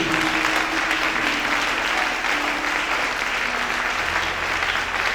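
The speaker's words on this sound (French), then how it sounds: "Est-ce qu'on peut acclamer très fort pour Jésus?" Church congregation applauding loudly and steadily, a dense continuous wash of clapping from many hands filling the room without pause.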